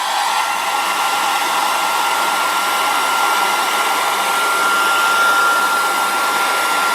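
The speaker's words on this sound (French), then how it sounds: "Je n'ai plus qu'à brancher mon sèche-cheveux sur le bloc prise" A hair dryer runs at maximum power, about 2400 watts, plugged into a portable power station, giving a steady, loud, close airy whoosh and motor whine that holds throughout.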